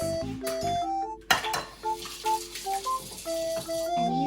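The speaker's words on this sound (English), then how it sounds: "we crack that tamago in that dish like this" A sharp crack and clink against a dish as eggs (tamago) are broken for tonkatsu breading, heard once near the start over steady background music with soft dish clatter.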